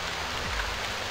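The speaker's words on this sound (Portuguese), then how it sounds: "já nasceu chovendo pra nossa alegria, né?" Steady rain falls in the survival game Stranded II, a dense, even hiss of drops that holds constant throughout with no talk over it.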